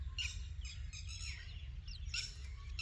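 Small birds of an unnamed species near a Pakistani village give repeated high chirps and tweets in short bursts over a low rumbling background, fairly close, with no talking.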